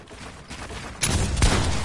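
Video game gunfire in a squad match, a quiet stretch giving way to a loud burst of rapid shots and a sharp blast near the end, dense and close.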